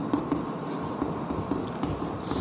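Pen scratching on paper while writing out chemistry notes during a Class 11 lesson, a steady close scribble with small taps, heard alone without talk.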